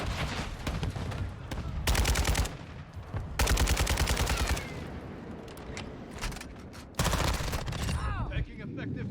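Gunfire in the video game Modern Warfare 2: loud bursts of rapid automatic fire in several long volleys, separated by quieter stretches with mechanical clatter and background noise, and a voice speaking in places.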